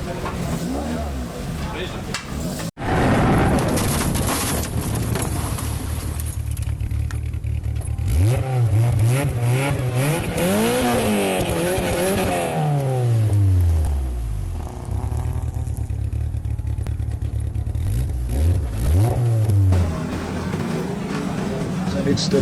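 A Lotus Challenge race car powers through corners and downshifts at Dezzi Raceway in KZN, its engine note rising and falling loudly through the gears, with a voice speaking over the sound.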